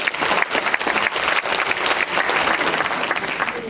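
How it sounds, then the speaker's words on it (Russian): An audience bursts into applause at a Chuvash community celebration, a full, continuous roar of clapping from a sizable crowd that stays even throughout. "Аплодисменты!"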